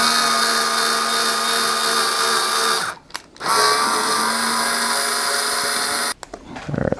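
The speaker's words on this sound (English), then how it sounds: "This is an electric screwdriver with a chuck on it." A small electric screwdriver with a chuck whirs steadily up close, pausing briefly twice before spinning again, then slowing to a stop near the end.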